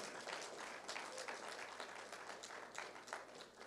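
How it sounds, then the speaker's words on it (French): A church congregation applauds during a French-language sermon, a faint, fairly even wash of many hands clapping in a large room with a low steady hum underneath. "Est-ce qu'on peut applaudir ça au moins?"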